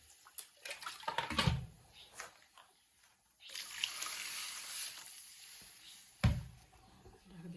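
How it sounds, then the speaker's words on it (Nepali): Tap water runs and trickles into a wok set up for boiling noodles, a continuous splashing stream with a few clanks of handling near the start and end. "राख्दैछु पानी।"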